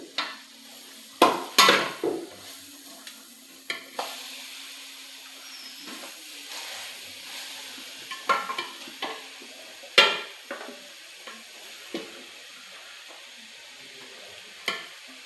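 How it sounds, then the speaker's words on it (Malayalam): Chicken pieces for a chicken curry sizzle steadily in a pan while a spoon stirs them, with irregular scraping and clinking knocks against the metal over the low frying hiss. "അത് നല്ലോണം ഇളക്കി കൊടുക്കാം."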